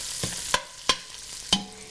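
Ground meat and garlic frying in a pan and turned with a utensil, three crisp scraping knocks over a steady, close sizzle, with no one talking.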